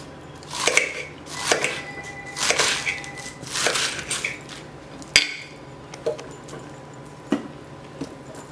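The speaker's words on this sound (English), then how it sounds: "this is the way you cut lettuce to be diced." A knife chops lettuce on a cutting board for a sub sandwich, with a run of crisp, crunchy cuts at an uneven pace, then a sharp knock and a few sparser, quieter chops.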